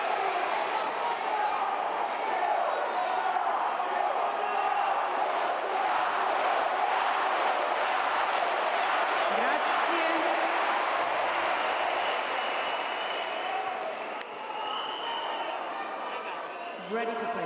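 A tennis crowd at the Davis Cup Final between Italy and Spain roars and cheers in a loud, sustained wall of noise for the whole stretch, easing slightly near the end.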